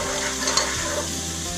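Curry rice with turmeric stirred in a pot, a steady soft sizzle with scraping strokes of the spoon, close and continuous for a brief moment, no voices.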